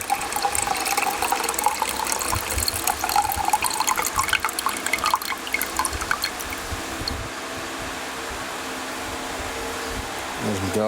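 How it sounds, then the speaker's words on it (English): Liquid solution poured off gold powder in a refining vessel, a steady trickling pour running for most of the stretch before easing off, with people talking over it. "Yeah, I'll just decant this off. Leave the gold behind in there."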